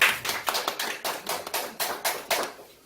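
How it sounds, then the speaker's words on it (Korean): An audience claps in unison at a talk or rally, a string of about ten sharp, evenly spaced hand claps that slow slightly, fairly close and clear with no talking over them. "똑똑하게 박수 한번 치죠."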